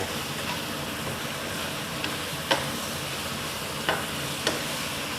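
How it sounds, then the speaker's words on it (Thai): Pork and pickled bamboo shoots stir-fried with chili curry paste hiss in a steady broadband sizzle, with a few sharp spatula scrapes against the pan breaking through, no voices present. "ผัดจนทุกอย่างสุกนะครับ"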